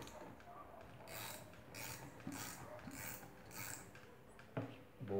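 A ratchet turns the bolt on a spring compressor tool, a faint run of quick rhythmic clicking strokes, then a brief metallic clunk near the end.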